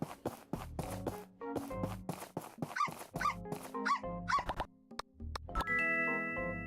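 A dog barks and yips in a series of short, sharp bursts, separated by quiet gaps, ending with ringing chime-like tones.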